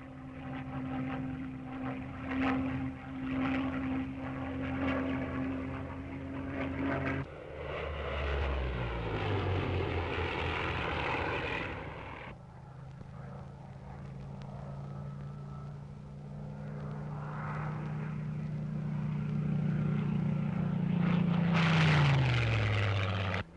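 A Supermarine Spitfire Mark 9 fighter plane flies past, its piston engine droning and roaring with rising and falling pitch, loud and continuous for the whole stretch with no talking.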